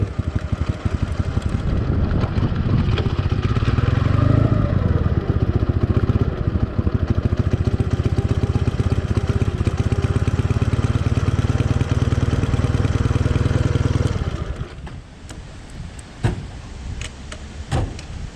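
A motorcycle engine idles in neutral with a steady, loud, low rumble for about fourteen seconds, then cuts to quieter scattered knocks and rustles.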